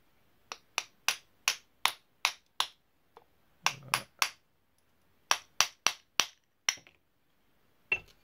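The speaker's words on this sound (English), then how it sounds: "I'm gonna smash it a little. I got this plastic hammer." A plastic hammer raps a rusty Sturmey Archer AW three-speed bicycle hub in sharp, evenly spaced strikes, grouped in quick bursts with short pauses, close and clear with no talking.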